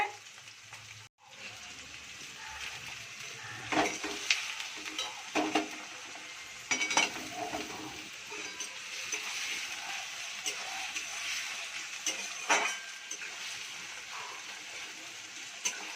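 Sliced onions fry in a pan, with a soft, continuous sizzle broken by scraping stirs. The sound stays fairly quiet, with occasional talk over it.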